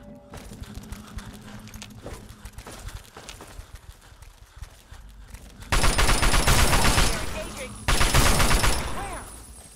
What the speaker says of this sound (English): I don't know where the gunshots are coming from.